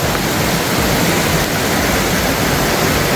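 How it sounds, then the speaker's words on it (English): A mountain stream and waterfall below Dream Lake in Colorado rush in a steady, loud, broadband roar with no pauses, close to the mic. "this is the stream and the waterfall that runs out of it"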